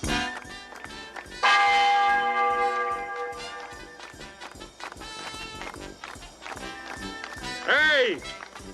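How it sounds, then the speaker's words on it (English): Church bells ring out in a comedic Western film's frontier town, a clear bright peal rising over busy scene noise, running footsteps and people talking. "Ring out the church bells!"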